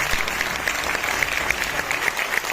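Steady, dense applause from an audience at a Vestige business seminar rolls on continuously at close range, a crowd of many hands clapping together.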